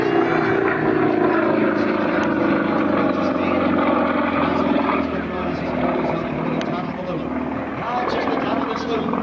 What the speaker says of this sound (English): It is a Russian-built aircraft. Russian Sukhoi SU-29.